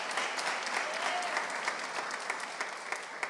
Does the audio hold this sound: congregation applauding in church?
yes